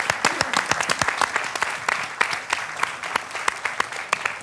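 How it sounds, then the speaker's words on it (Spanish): Audience applause at a Canarian parranda folk music gathering, a burst of many hands clapping with sharp individual claps standing out, fairly close and steady throughout. "Un aplauso para ellos."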